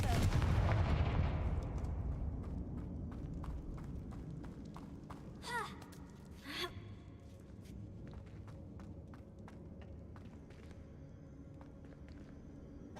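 Confringo blasting spell going off in a Harry Potter video game, a sharp explosive burst followed by a second blast amid faint game ambience and light footstep-like ticks, fairly quiet overall.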